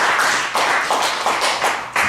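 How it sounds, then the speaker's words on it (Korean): A church congregation claps together during a Busan church staff seminar, steady loud rhythmic clapping in repeated bursts, close and full, with no talk over it. "박수 한번 합시다"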